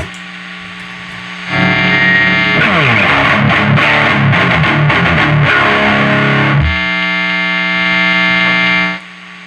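A loud, heavily distorted electric guitar through a Joyo Vivo amplifier chugs and rings with the noise gate off, a buzzing hum and hiss hanging in the gaps before and after playing.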